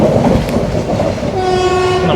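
A train on the Thiruvananthapuram–Nagercoil line pulling into Nagercoil station, loud rumble and rattle of the carriages close by, then a sustained horn blast sounding over the running noise.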